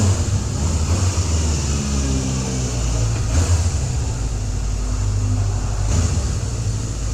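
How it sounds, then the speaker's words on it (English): A 1977 Honda CB750F Super Sport motorcycle engine runs close by with a loud, steady, smooth drone and slight swells in pitch, and no voices are heard over it. "Stunning machine. Super smooth. Buttery smooth. Honda CB750F."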